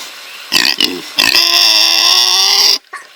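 A person imitates a pig, giving a couple of short grunting snorts followed by a long, loud, nasal squealing oink that cuts off abruptly, then a faint brief sound.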